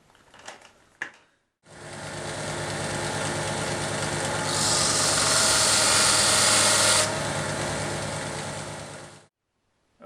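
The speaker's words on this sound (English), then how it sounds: "put this on the sander to take this edge off and take it down a couple of millimeters" A power sander grinds down the edge of a pipe for a Halloween candle prop: a loud, steady motor whir that turns into a harsher abrasive hiss midway, then spins down, after brief handling noises.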